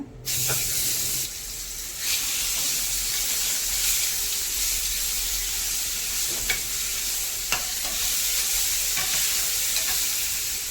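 Raw mango goes into a pan of frying mustard seeds, and a sudden burst of sizzling settles into a steady hissing fry. Sharp utensil clicks recur throughout.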